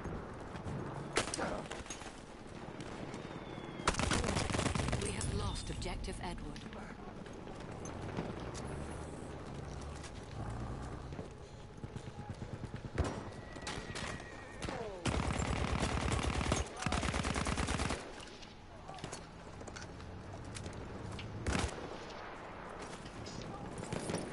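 M1907 automatic gunfire in the video game Battlefield 1, with dense rapid bursts and scattered shots amid battlefield noise and hoofbeat-like clatter, and occasional speech.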